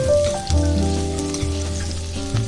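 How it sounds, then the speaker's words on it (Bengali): Chopped onion fries in a small amount of oil, with a steady close sizzle and crackle running for a couple of seconds and no voices over it. "আমি অল্প পরিমাণে তেল দিয়ে দিয়েছি, আর একটা ছোট সাইজের পেঁয়াজ কুচিয়ে আমি এর তেলের মধ্যে দিয়ে হালকা একটু ভেজে নেব।"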